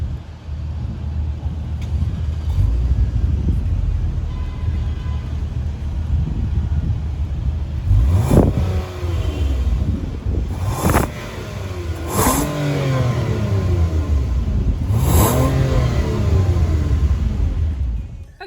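A 2020 Lexus ES350's 3.5-liter V6 rumbles at idle from the rear exhaust, then revs sharply four times in quick bursts that rise and fall, loud and close, with no talk.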